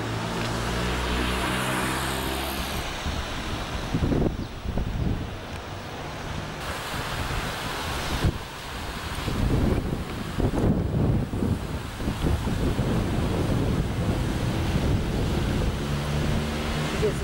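Gusts of wind buffet the microphone in rough, uneven bursts on Tower Road, Malta, on a cloudy day, roaring loudly at times over a constant low rush like surf.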